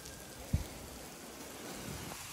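Steady rain hisses softly and evenly, with a single brief knock near the start, at the Jeddah waterfront.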